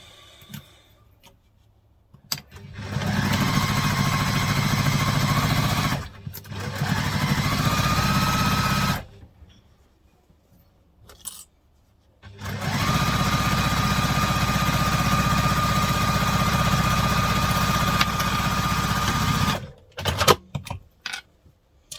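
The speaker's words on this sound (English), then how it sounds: "so now I'm going to top stitch it." Sewing machine top stitching a laptop briefcase panel, running in two long steady bursts of rapid mechanical stitching, with brief quiet pauses and small handling clicks between them.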